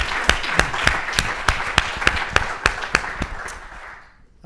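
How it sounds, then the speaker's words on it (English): Audience at a pitch competition panel event clap for the participants, a fairly sparse, rhythmic run of distinct hand claps in a room that tapers off near the end. "So big round of applause first for everybody who participated"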